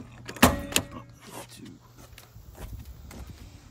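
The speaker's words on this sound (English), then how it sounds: "I guess I'll pump the trunk so you guys can check that out" Trunk of a 1992 Toyota Starlet GT Turbo pops open with two sharp mechanical clunks close by, followed by faint rustling and light movement around the car.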